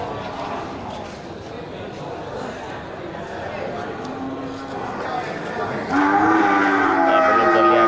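Cattle moo at an Aceh livestock market where breeding cows are being traded, a long low call rising near the end over steady crowd chatter and talking voices.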